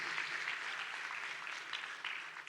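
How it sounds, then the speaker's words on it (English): A fairly faint round of clapping from an audience at an Amway India meeting carries on steadily for a couple of seconds. "applause to Amway India."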